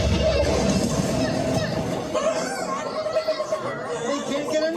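An impatient crowd chatters in the Muppets ride show, a loud babble of many overlapping voices that thins out partway through.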